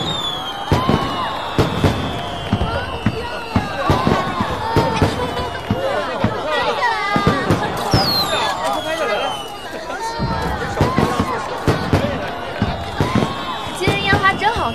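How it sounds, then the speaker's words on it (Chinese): Fireworks burst during a festive nighttime event, with repeated sharp bangs and crackles scattered through a busy, noisy scene full of crowd voices. "今天烟花真好看。"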